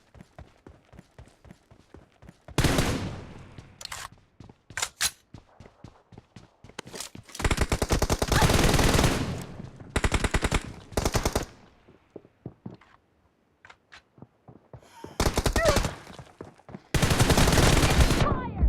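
Bursts of rapid automatic gunfire from a video game shootout in a one-on-one match against a pro Gladaria X-Suit player, loud volleys separated by lighter clicking and footstep-like taps.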